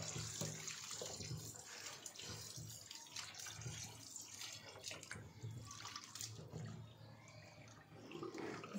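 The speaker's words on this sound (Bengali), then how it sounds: "চিকেনটা ধোয়ার বাকি ছিল, তো চিকেনটা ধুচ্ছিলাম।" Tap water running steadily into a kitchen sink while chicken is washed, a constant close splashing flow with slight shifts in texture and no voices.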